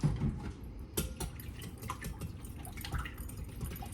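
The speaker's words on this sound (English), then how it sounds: "Now you're going to whisk these 2 together." Whole milk and eggs are whisked together in a bowl, making a wet sloshing sound with irregular light clinks and taps close by, and no voices.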